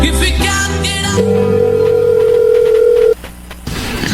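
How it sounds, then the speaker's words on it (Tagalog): A telephone sounds with a steady ringing tone over background noise, holding for about two seconds before cutting off abruptly, with no talking. "Please, Emil, sagutin mo ang telepono."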